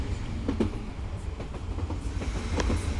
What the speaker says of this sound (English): The train is going back to the station.